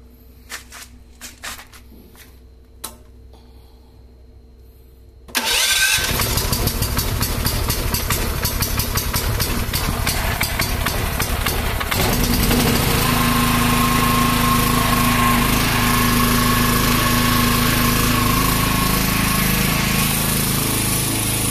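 A Dekes 3500W gasoline generator after a few quiet clicks and knocks, its small engine catches abruptly and settles into a loud, steady running drone with a slight shift in tone partway through.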